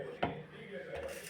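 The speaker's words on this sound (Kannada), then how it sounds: "ಒಂದು ಮಿಕ್ಸಿ ಜಾರ್ ತೊಗೊಳ್ಳೋಣ ನಾವು" A hard clink as a mixer grinder jar is set down or picked up, then a softer knock a moment later, close and quiet.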